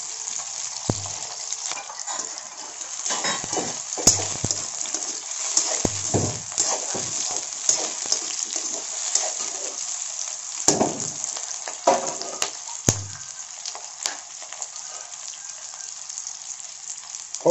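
Onions sizzle and fry in a pan over high heat for an onion bhindi dish, a steady loud hiss with occasional stirring scrapes and clatter, no talking.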